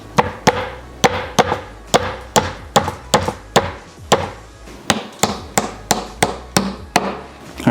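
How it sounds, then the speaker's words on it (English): Repeated sharp hammer blows driving a pin into wood while assembling a Furinno Andrey end table, evenly spaced about two per second, loud and close with no talking. "then you guys can use like a hammer to hammer it down."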